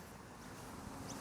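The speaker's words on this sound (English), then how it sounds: "it's a bit uncharacteristically windy compared to other times" Faint, steady wind rushing outdoors on a lav mic with a wind sock, a soft broadband hiss with slight buffeting and no voices.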